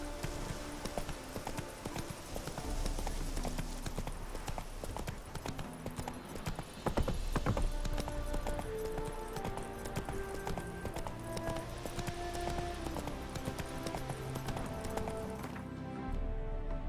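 Hoofbeats of the horse Roach galloping in The Witcher 3, a steady rapid clip-clop over layered game music and ambience, with a faint whinny.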